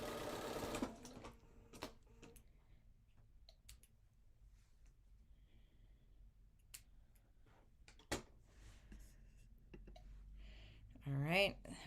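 A sewing machine stitching quilt fabric, a faint run of quick mechanical clicks and ticks over a quiet room, with a louder whir at the start and a voice speaking briefly near the end.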